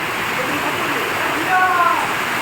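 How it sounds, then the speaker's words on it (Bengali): Rain falls in bright sunshine as a steady, even hiss of drops, close and constant, with a faint brief tonal sound rising over it midway. "রোদের সাথে বৃষ্টি এবং এর আওয়াজ পাচ্ছেন"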